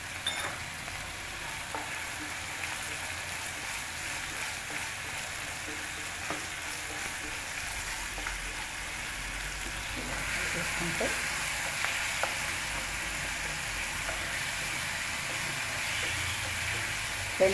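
Dry red chillies fry in a pan for mint chutney, a faint steady sizzle with occasional light scraping from stirring, continuing unbroken throughout.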